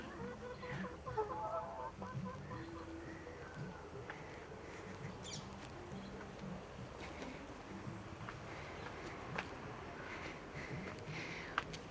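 Chickens in a village henhouse in the Sundarbans cluck and chatter continuously at a moderate distance, with scattered calls over steady low background noise and no talk.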